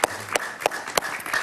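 A studio audience applauds for Sergio Escobar on a television talk show: a short run of scattered claps with a few sharper hits, moderately loud in the room.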